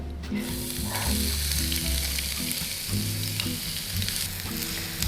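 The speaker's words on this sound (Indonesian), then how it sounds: "Tumis bawang yang tadi udah dipotong selama 2 jam." Chopped onions sizzle and fry in hot oil in a pan, a steady crackling hiss with occasional stirring clatter, close and alone, no talking.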